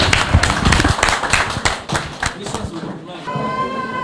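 An audience at an International Women's Day gathering in Vejle, Denmark, claps together in a dense burst of applause that tapers off near the end.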